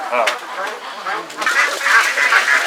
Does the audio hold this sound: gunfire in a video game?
no